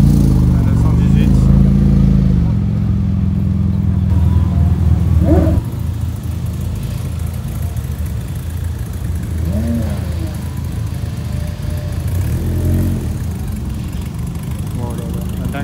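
A Porsche 918 supercar at a Cars & Coffee meet in Luxembourg, its engine loud and close, with a strong low rumble that eases after a few seconds into a steady idle, while people talk over it throughout.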